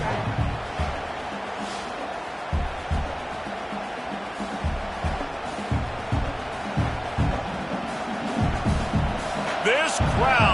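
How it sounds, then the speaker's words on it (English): A dense stadium crowd roars without a break in a college football video game, San Jose State at Texas A&M, under a commentator's voice, with scattered thumps and a loud swell near the end. "This crowd, full throat, splitting the eardrums"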